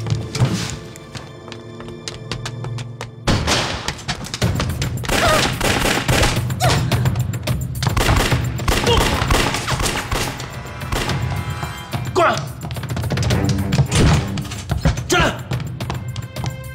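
A shootout in a wartime drama erupts in a sustained fusillade of loud gunshots and bursts of rapid fire, thumps and impacts layered over music and shouting voices.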